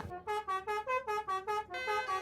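Indonesian telolet bus horn plays a melodic tune, about eight short harmonic blasts in a bouncy rhythm, loud and close with no talk.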